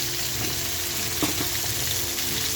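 Tomatoes sizzle and fry steadily in a pan for a fish curry, a close, continuous crackle with light stirring and no talk.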